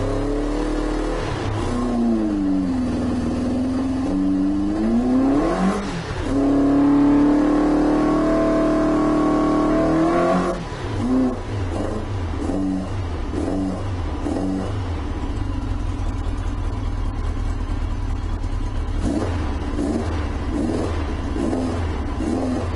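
A Yamaha XJ900S motorcycle engine runs without its air filters, revving up and down in several blips that sound flat and farty, then settles into an uneven, choppy idle close by.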